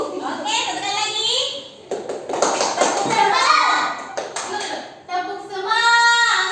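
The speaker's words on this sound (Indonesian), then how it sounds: "Tepuk semangat." Schoolchildren in a classroom perform a rhythmic spirit-clapping chant, quick patterned claps mixed with their chanting voices, while a teacher speaks between rounds.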